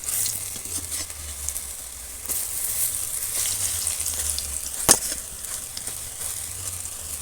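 Coriander leaf fritters sizzle steadily in hot oil, a continuous hiss with a few soft clinks as they are turned, and one sharp tap partway through.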